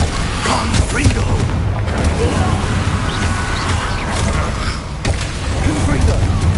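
Confringo blast spells in a Harry Potter–style video game: a dense run of loud explosive booms and crashing impacts, with bursts near 0.5 and 5 seconds over a steady rumbling bed, a voice talking underneath.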